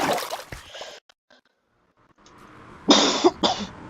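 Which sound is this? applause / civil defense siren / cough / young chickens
cough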